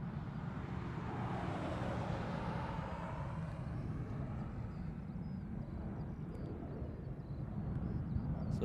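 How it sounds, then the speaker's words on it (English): A C-17 military transport jet at Honolulu airport, heard as a loud, steady broadband engine roar that fills the whole stretch and swells slightly toward the end. "So this is the C-17 we've been waiting for."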